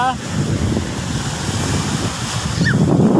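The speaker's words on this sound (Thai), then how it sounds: "บรรยากาศกำลังดีนะครับคลื่นแรงมาก" Strong sea waves surge and crash continuously at Bang Saen beach, loud and close with a wind-buffeted rumble and faint distant voices underneath.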